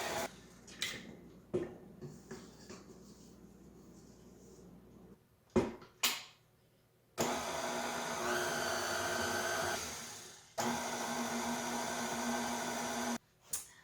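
An electric mixer beating the wet ingredients for peanut butter cookies, running in loud steady whirring bursts broken by pauses, with a few short knocks and clatters in the first half, up close.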